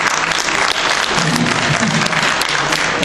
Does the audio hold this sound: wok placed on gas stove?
no